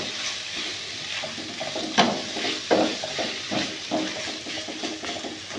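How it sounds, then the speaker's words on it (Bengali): Coriander and black pepper powder get stirred in a pan over a soft, steady sizzle, with a spoon scraping and tapping the metal several times at close range. "এবার একটু ভালো করে এটা নেড়ে নিই।"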